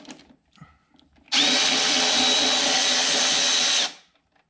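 A power tool spins out the chain case support screws on a 2011 Yamaha Apex snowmobile, a loud steady whir with a high whine lasting about two and a half seconds, with small handling clicks before it.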